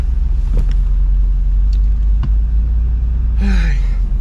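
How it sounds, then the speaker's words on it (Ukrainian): Car turning around on a closed road in Capitol Reef National Park, Utah, heard from inside as a steady low engine and road rumble, with a brief rising whine near the end. "ми розвертаємось і їдемо в іншу сторону"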